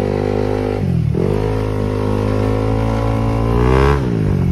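A Yamaha NMAX V1 scooter engine, bored to 215cc with a 66mm block, drones loudly up close, dipping low for a moment, then climbing steadily in a long rev before easing back down.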